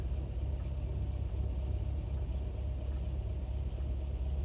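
A simulated Rand Robinson KR-2S experimental light aircraft engine idles at about 1,000 RPM in X-Plane 12, giving a steady, continuous low rumble with no other sounds.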